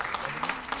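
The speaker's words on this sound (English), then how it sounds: "A round of applause for winner number two in the category of e-infrastructure" An audience claps for an award winner in the e-infrastructure category, a brief burst of moderate applause with a few sharper claps standing out.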